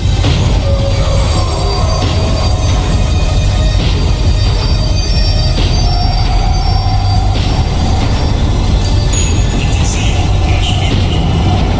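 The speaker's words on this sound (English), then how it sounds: "tram was slowing down, and I'd only just gotten on board." Tram decelerating in the video game Max Payne 3, with steady loud rumbling, rattling rail noise and metallic wheel squeal, continuous throughout without talk.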